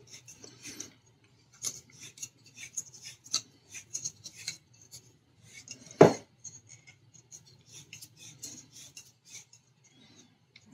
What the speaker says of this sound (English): This is a nice clean way to cut a pipe and you don't create sparks or super rough edges.